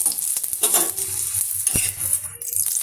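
Spinach paratha roasting in ghee on a pan gives a loud, steady sizzle, broken by scraping stirs and spatula clinks that sit close to the mic. No one speaks.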